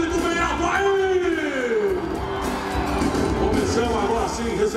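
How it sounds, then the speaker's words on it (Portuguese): A large arena crowd cheers, yells and whoops loudly at an event's closing ceremony, a steady roar of voices with shouts rising above it throughout. "uma salva de palmas e um grito bem alto aí!"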